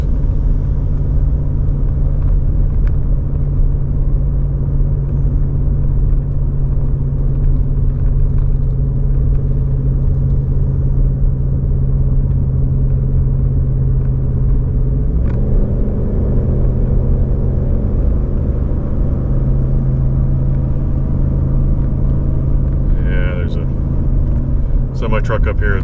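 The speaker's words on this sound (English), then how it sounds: "Right now I'm letting the truck shift itself. I'm not shifting for it." A pickup truck with an automatic transmission shifting on its own cruises with a constant low engine drone and road rumble, and a rising pitch change partway through marks a gear change; someone talks over it throughout.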